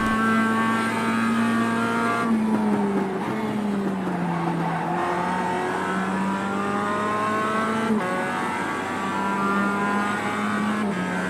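Mazda MX-5 Cup race cars in the iRacing simulator at Road Atlanta, a loud sustained engine drone rising and dropping through gear shifts, with faint tire squeal as cars close in from behind.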